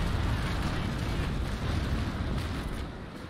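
Ship cannon shots in the naval combat game Naval Action, a dense booming roar of broadside fire that fills the low end and rumbles on steadily before easing off near the end.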